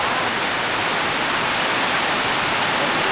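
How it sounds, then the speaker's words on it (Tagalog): Heavy typhoon rain in Bohol pours in a dense, steady roar with a broad hiss and no breaks or voices. "Grabe mga man, ang lakas ng ulan."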